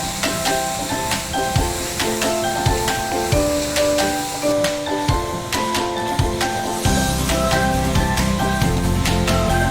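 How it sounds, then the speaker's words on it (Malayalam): Onions, small shallots and curry leaves sautéing in a pan, a steady hiss and sizzle broken by repeated scraping strokes of a stirring spoon, close and loud, rising to a fuller sizzle near the end. "നമുക്ക് നന്നായിട്ടൊന്ന് ഇളക്കി നല്ലപോലെ ഒന്ന് വഴരുന്നവരെ ഒന്ന് ഇളക്കി"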